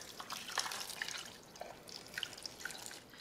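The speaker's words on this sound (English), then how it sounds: "Add your water." Water poured into an Instant Pot of pozole with bay leaves and dried chiles, heard as quiet scattered drips and light splashing, close and soft with no talk.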